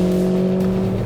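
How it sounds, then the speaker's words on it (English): A Honda Civic Si with a swapped K24 engine climbs in revs and crosses into VTEC, giving a loud, steady, close-up engine drone with strong sustained harmonics and no sharp change in tone. "when the K24 comes into VTEC, it's not nearly as pronounced"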